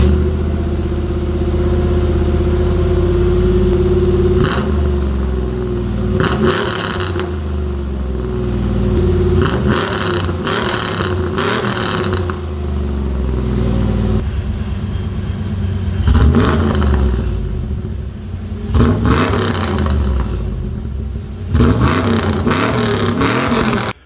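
A supercharged 500 hp fourth-generation Chevrolet Camaro engine idles with a deep rumble and is revved repeatedly, several sharp bursts rising and falling over a steady low throb, close by.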